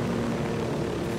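Airplane engine in the video game Ghost Recon Wildlands, a steady, loud propeller drone with a dense rumbling tone that holds constant throughout, with no talk over it.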